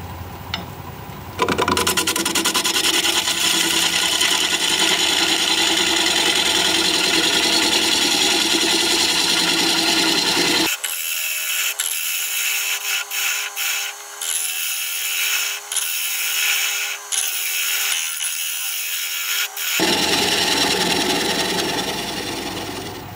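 A wood turning tool is sharpened on a grinder for black walnut work, a loud steady grinding hum that cuts off abruptly halfway, followed by quieter scraping and rubbing with sharp clicks before the grinding resumes.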